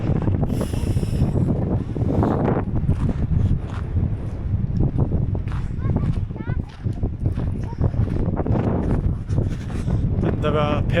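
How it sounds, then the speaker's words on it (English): Strong wind rumbles and buffets continuously on the coast at Oscarsborg Fortress near Drøbak, Norway, loud and close, with faint indistinct vocal sounds mixed in. "It is windy."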